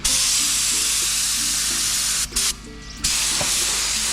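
A spray gun lays tinted transparent clear coat onto car tail lights, a loud close continuous hiss that cuts out briefly near the end, then resumes.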